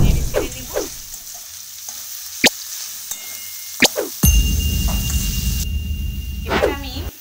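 Chicken pieces fry in oil for a street-food kati roll, a sizzle that swells partway through, with stirring clinks and metallic taps and a voice talking over it.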